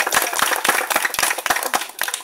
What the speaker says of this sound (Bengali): আপনারা নিজেদের জন্য একটা হাততালি দিন তো